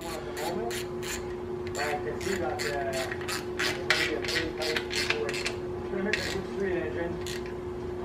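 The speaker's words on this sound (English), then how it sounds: "All right, so we're just going to snug those up." A wrench snugging up the intake manifold bolts on a Plymouth Roadrunner 383 engine, giving rapid repeated metallic ratchet clicks in close, steady bursts over a constant background hum.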